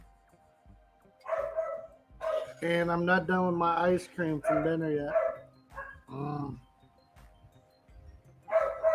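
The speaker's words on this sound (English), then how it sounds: "My dogs are decided to bark now" Several dogs barking in short, sharp bursts between and under a person talking nearby, with a few barks near the start and another bark at the end.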